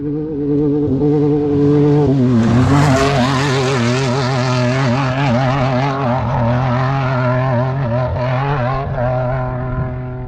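An off-road race car driven fast on a desert road, its loud engine roaring close with wavering revs that climb sharply early on and stay strong and steady throughout, with no talk.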